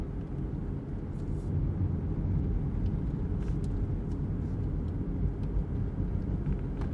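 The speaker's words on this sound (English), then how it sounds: "so let's take it for a test drive" A Gen 2 Toyota Prius out on a test drive gives a steady low road rumble and cabin drone from inside, even and unbroken, with no talking.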